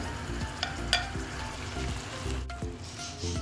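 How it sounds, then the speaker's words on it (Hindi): Beef keema mince sizzling in a karahi, a steady close frying hiss broken by regular scraping stirs and a few soft clinks of the spoon against the pan. "कीमा इसमें डालने के बाद हम तकरीबन 3 से 4 मिनट तक अच्छे से इसको इसमें फ्राई करेंगे"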